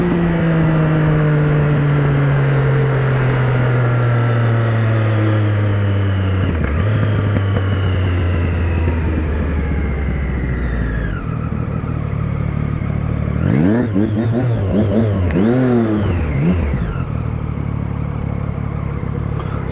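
A motorcycle engine revs up and down loudly and continuously, pitch rising and falling, then settling into a rough idle with a few throttle blips.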